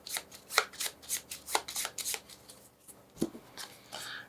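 Cards are shuffled during a solo game of the Small Islands board game, a quick series of crisp riffling bursts at close range, pausing briefly before a final few snaps.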